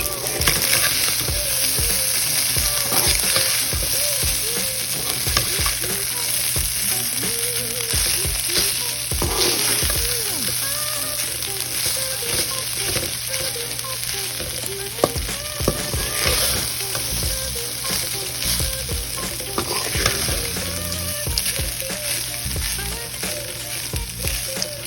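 Cooked rice with onions frying in a pan, a steady sizzle under repeated scraping and stirring strokes, close up and continuous throughout with no talk.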